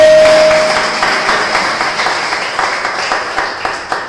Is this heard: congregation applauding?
yes